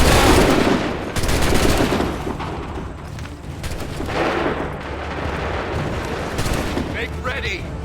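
Musket volleys thunder in Assassin's Creed III, heavy booming gunfire starting loud at the opening and rolling on with repeated blasts, with battlefield shouts heard among the shots.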